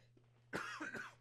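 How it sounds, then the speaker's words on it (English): A single harsh cough bursts out, followed by a second shorter cough, close and alone over a faint steady hum. "Sorry about the coughing."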